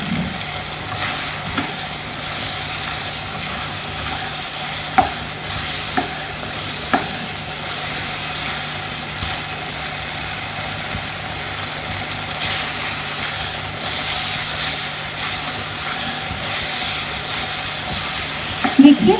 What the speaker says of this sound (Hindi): अब हम इसको भून लेते हैं। फ्लेम को थोड़ा सा ज्यादा कर देते हैं।